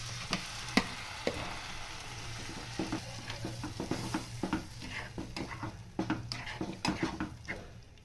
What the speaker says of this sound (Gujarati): જીરું ફૂટે એટલે તેમાં 4 નંગ ખમણેલા ટમેટા નાખશું।